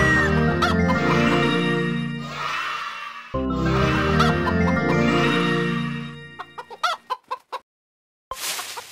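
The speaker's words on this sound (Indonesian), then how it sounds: "Ayam-ayam betina kini kenyang dan siap bertelur." Cartoon hens cluck and squawk busily on an animated Upin & Ipin farm, steady and close over a background tune, then a few sharp separate clucks, a brief silence and a final burst.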